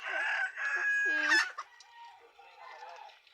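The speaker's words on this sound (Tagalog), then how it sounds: "Mao ni yung manok." A rooster crows loudly and close, followed by softer clucking and a few scattered fowl calls.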